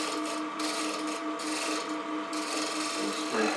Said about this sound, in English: A little scraping action.